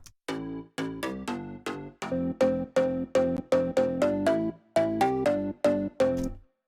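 Layered synth from a Future House sample pack plays a rhythmic sequence of short plucked stabs with a stepping melody, about a dozen hits with a brief gap near the end, loud and alone.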